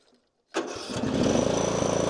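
An old lawn mower converted into a rally racing machine, fitted with a swapped engine and a different carburetor, cranks and fires after a moment of silence, then settles into a loud, steady, close-up idle.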